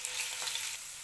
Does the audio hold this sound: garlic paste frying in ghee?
yes